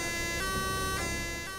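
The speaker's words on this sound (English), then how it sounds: "This is the sound of the police." Police siren in the Fernbus bus simulator game, a steady wailing electronic tone with repeating bursts at a constant loud level, running throughout with no talk.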